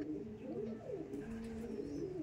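Andhra pigeons coo in a steady, low, rolling murmur, with several overlapping calls continuing close by and without a break.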